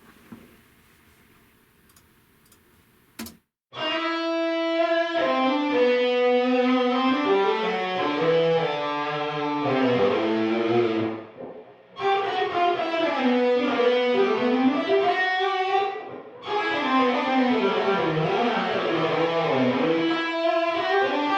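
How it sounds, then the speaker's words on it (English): A soft click, then washy, spacious room reverb of guitar chords, captured in a house by two Shure KSM44 microphones without the dry signal, ringing out with no direct attack, swelling and briefly dropping away twice before returning. "let me show you what the reverb sounds like without the dry guitar"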